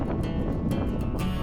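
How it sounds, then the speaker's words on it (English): Wind rushes into the microphone of someone running between Kinlochleven and Fort William, a steady close buffeting roar with faint rhythmic footfall thumps. "It's only a bit of a wind, but it's a tailwind"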